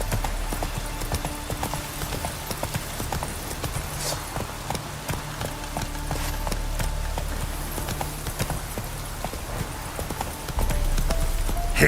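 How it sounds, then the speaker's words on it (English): Horse hooves clip-clopping in The Witcher 3 video game, a steady rhythmic trot of the horse Roach heard close among game ambience and music, with no speech. "Whoa there, Roach."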